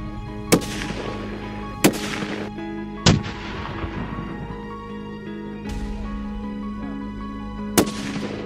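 Five sharp, loud rifle shots fired at 1,000-yard targets, each crack followed by a brief decaying echo, spaced irregularly about one to two seconds apart in an open outdoor setting.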